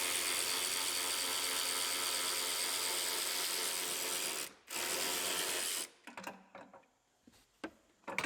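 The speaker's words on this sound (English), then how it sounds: "We can unbolt our retractor. One bolt in the bottom, one in the top." A ratchet clicks steadily while unbolting the seatbelt retractor bolts on the B-pillar of a 2019 Sierra Denali, close and fairly quiet, a brief pause then scattered ticks and handling noises as the bolt comes free.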